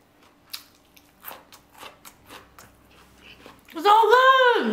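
Crunchy bites and chewing of a homemade spring roll filled with Spam and egg, several close, wet crunches in a loose rhythm, ending with a loud, sustained vocal exclamation.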